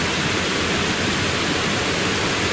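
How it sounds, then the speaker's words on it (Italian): Steady, dense roar of the Cascata dell'Abbraccio waterfall, reached on a 10 km loop hike, a continuous broadband rush with no breaks, heard alone. "Si chiama cascata della Braccia"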